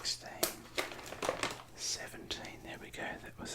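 Close, quiet crinkling and snipping of scissors cutting into a Grain Waves chip packet, irregular sharp crackles under soft whispering.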